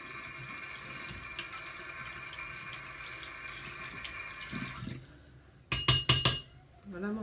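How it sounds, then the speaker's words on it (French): A brush rinsed under a running tap makes a steady hiss of water into a sink, which stops, then gives a few short splashy bursts as it is shaken under the flow, quiet and close. "je rince mon pinceau"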